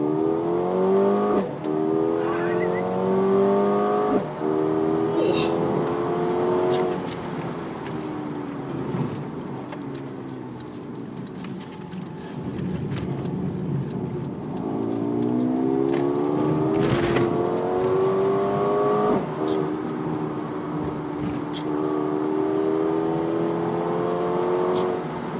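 Mercedes-AMG A35 sedan engine revving and accelerating in repeated rising sweeps, a loud, close engine note that climbs, drops back between gear changes, then climbs again, with brief dips in between.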